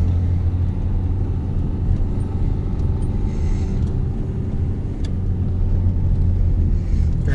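A Renault Duster towing a Westfalia trailer rolls over a speed bump, giving a steady low road rumble and engine drone from inside the car with no distinct thump.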